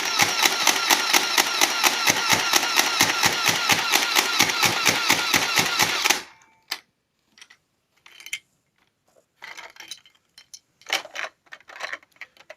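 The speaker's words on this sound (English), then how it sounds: "let's run off a couple of shots so you can at least hear it" Nerf Vulcan blaster fitted with a 5kg spring upgrade and rewire fires a rapid, steady burst of mechanical clacks for about six seconds, followed by scattered handling clicks and rattles.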